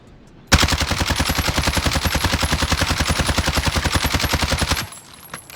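Automatic gunfire in the Warzone video game, fired while testing recoil: one rapid, even burst of about four seconds of loud, closely spaced shots that then stops abruptly.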